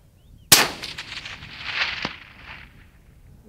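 A hunting rifle fires once at a target 400 yards away, a sharp close crack followed by a long rolling echo that fades over a few seconds, with a fainter secondary report.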